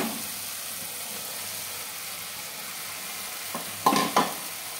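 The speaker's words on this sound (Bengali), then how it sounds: "একটু নাড়িয়ে ছাড়িয়ে নিচ্ছি ভালো করে চিকেনটা দিয়ে।" Chicken sizzles steadily as it fries in a pan for an egg-free Bengali chicken bharta, with a low continuous hiss, then two short louder scrapes of stirring near the end.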